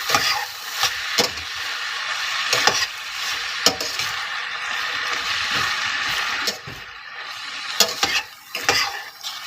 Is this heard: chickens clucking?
no